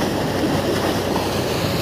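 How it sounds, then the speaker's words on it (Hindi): A New Holland tractor drives a 12-size water pump fan at normal throttle beside a canal, giving a steady, loud broadband roar of engine and gushing water with no talking. "ये गाड़ी पंखा जो है आपको बताया ना मैंने, 12 का पंखा है। पानी बिल्कुल फुल निकाल रहा है नॉर्मल रेस में"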